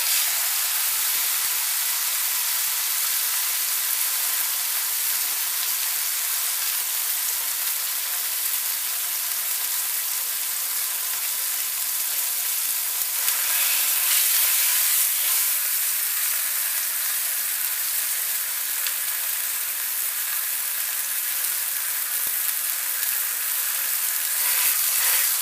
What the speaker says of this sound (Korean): 들어갈 때는 치 소리가 날 정도로 불이 세야 합니다